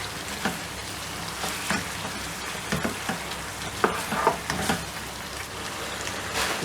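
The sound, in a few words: chicken with ginger paste sizzling in a karahi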